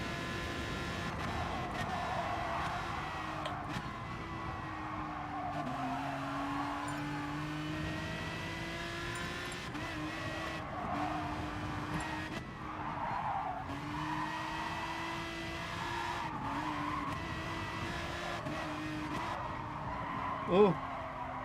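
Race car on hard tires in the racing game GT Sport, a continuous engine drone with rising and falling revs and tire squeal as it corners, steady and sustained, with a voice talking over it.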